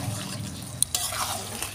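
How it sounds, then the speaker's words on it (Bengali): Marinated chicken being stirred into spice masala frying in a pan for Bengali chicken kosha, a soft continuous sizzle with brief scraping clinks of a spoon against the pan. "এবার আমি ম্যারিনেট করা চিকেনটা দিয়ে দেবো এর মধ্যে তো চিকেনটা দিয়ে আমি একটু ভালোভাবে নেড়ে চেড়ে দেবো"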